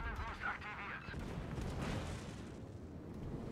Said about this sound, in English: now he started shooting